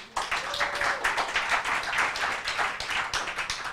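An audience at a tech talk claps in a steady, dense patter of many hands, moderately loud and continuous for a few seconds.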